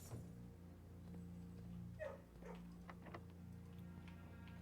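A dog in the video game Blue Prince gives a few short, soft yips and whimpers around the middle, fairly faint over a steady low game ambience hum.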